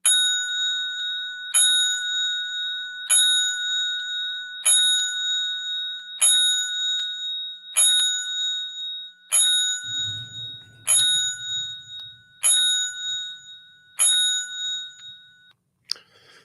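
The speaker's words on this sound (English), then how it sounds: "Third hour of doing the 10 bells" Ten bell strikes ring out as a memorial tribute, each a bright, clear ding spaced evenly about a second and a half apart and ringing briefly, with faint low rumble midway.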